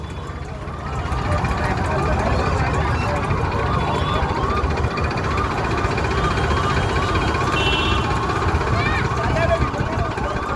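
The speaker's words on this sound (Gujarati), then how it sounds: "પેલો બંબા વાળો આવે છે. કેટલો ફાસ્ટ આવે છે." A fire engine siren wails repeatedly as it approaches through a flooded street in Vadodara, loud and cycling steadily, with people talking nearby over the sound of vehicles moving through water.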